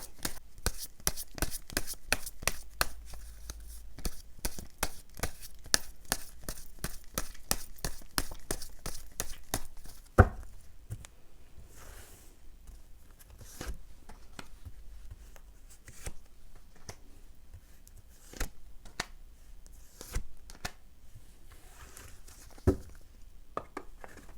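Tarot cards shuffled and drawn at close range: a steady run of rapid riffling card clicks for about ten seconds, then scattered individual slaps and snaps as cards are drawn and laid down, with no talking.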